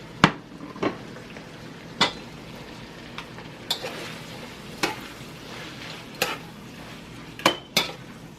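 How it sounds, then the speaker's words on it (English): Carrots and peas going into a pan of cooking ground beef, a quiet steady sizzle broken by about a dozen sharp clinks and scrapes of a utensil against the pan, spaced irregularly. "at this point I'm gonna add both carrots and"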